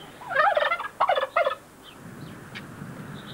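Turkeys on a farm gobble in three rapid, warbling bursts close by, followed by quieter background noise and a faint call or two.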